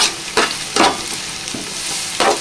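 A large, finely sliced onion fries in hot oil in a pan for a fish gravy curry, a steady sizzle broken by about four scraping stirs, close and loud with no voices.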